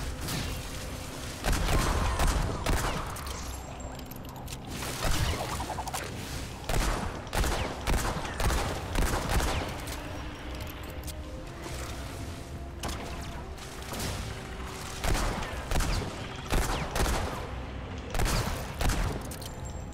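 Bursts of gunfire from the player in the video game Remnant 2 sound in repeated volleys over a constant rumbling game background, loud and dense for the whole stretch.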